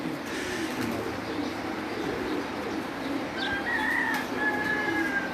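Pigeons on a rooftop loft coo at a moderate distance, low and continuous, while a rooster-like call cuts in faintly near the end over steady ambient noise.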